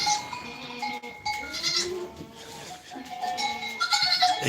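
A newborn goat kid from a first-time mother bleats on a farm, with repeated wavering calls rising above a busy livestock pen, other goats faintly audible and someone speaking nearby.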